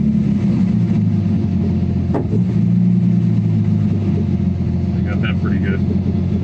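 A car engine idles at low speed while its fuel mixture and acceleration enrichment are being tuned, giving a steady, close low rumble throughout. Someone talks over it.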